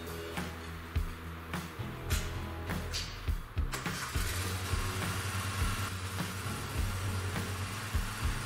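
A Bobcat zero-turn mower engine cranks and fires, then settles into a steady low idle hum with a few knocks and clicks, moderately close and heard without talk.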